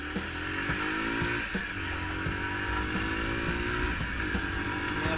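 Worn brake pads on a Yamaha YB 125 motorcycle give off a wavering, drawn-out squeal that runs continuously beneath engine rumble and road noise.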